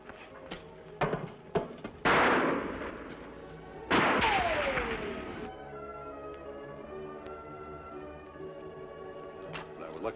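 Loud gunshots ring out in a western shootout, two heavy booming blasts with long echoing decay and a few sharper pops before them, amid a noisy film soundtrack.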